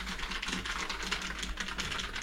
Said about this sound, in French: Vous pouvez semblant taper sur votre clavier,